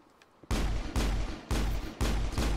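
Gunfire in the video game Mass Effect, fired inside an embassy: three loud, booming bursts in a row, each starting sharply and ringing on for about half a second, close and heavy with no talk over them.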